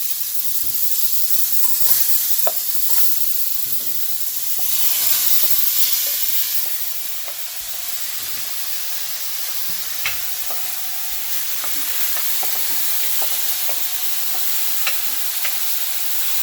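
A big batch of mushrooms for vegan lettuce wraps fries in a pan, a continuous loud sizzle and hiss broken by scattered clicks and scrapes of stirring, close and without talk.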